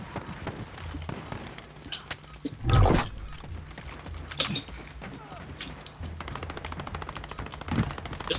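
Gunfire in a Call of Duty: Warzone battle royale match, scattered sharp shots and short bursts, with one heavier blast near the start, over rattling mechanical clatter and background noise, with faint talking.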